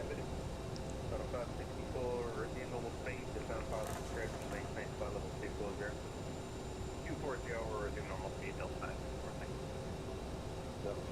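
Twin jet engines of a CRJ-900 roar steadily at TOGA takeoff thrust in Microsoft Flight Simulator 2024, with someone talking continuously over the dense engine noise.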